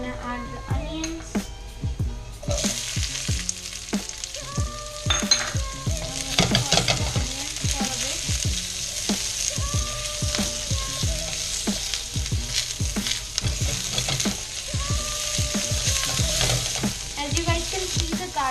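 Onions and garlic sizzle and fry in a pan while being stirred, with frequent scraping and clinking of a utensil against the metal over a steady crackling hiss that continues throughout, close and fairly loud.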